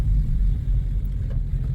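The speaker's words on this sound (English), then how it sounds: "I'm enjoying the sound and noise of this M113 engine" Low, steady rumble from a Mercedes CLK500 with an M113 V8 running on a straight pipe and no muffler, idling close by in a continuous deep drone with slight uneven pulsing.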